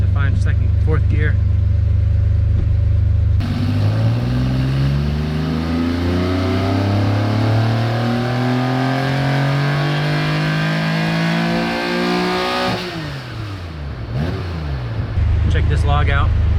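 An air-cooled Porsche 911 engine with individual throttle bodies and MegaSquirt tuning roars up through the gears from close range, its loud rising pitch sweeping upward. A gear change comes late, and the engine then falls back to a lower rumble.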